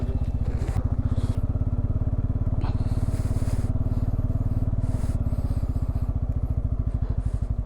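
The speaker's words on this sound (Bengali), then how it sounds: "বিপ্লব চ, এখানে বাইক চালানোই ভালো না" A motorcycle runs on an icy mountain road near Lachung in North Sikkim, its engine chugging in a fast, steady pulse close to the microphone, with a few scattered clicks and rustles and faint voices in the background.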